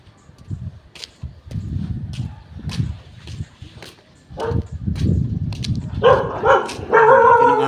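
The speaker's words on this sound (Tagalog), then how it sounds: "Laki ng aso." A big dog barks in short, loud, repeated bursts during a morning walk past large houses, with footsteps and a voice coming in near the end.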